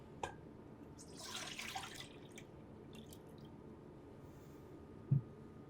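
Orange juice pours briefly into a container in a teaching kitchen, a soft, faint splash and trickle lasting about a second, followed by quiet room tone and a single small drip or tap.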